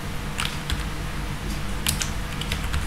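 Fingers tap out text on a computer keyboard in short irregular bursts of light clicks, close and fairly quiet over faint room noise.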